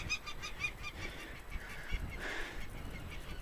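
Seabirds near a nest on a rocky island give loud, goose-like honking calls, a rapid series of close, nasal cries repeating over wind noise, with no talking.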